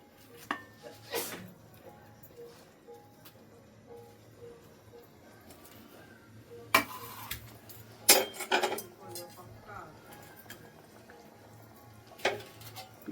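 Pieces of rohu fish go into a pot of boiling water while a Bengali fish curry cooks, with a soft bubbling bed broken by sharp metallic clinks of utensils against the pot.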